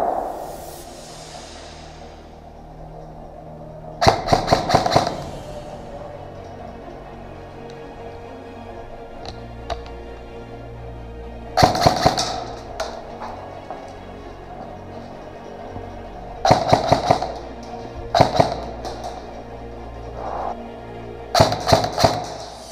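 Airsoft guns fire during an outdoor airsoft game, several short bursts of rapid snapping shots separated by long stretches of quieter background with a steady low hum, fairly close and loud when they come.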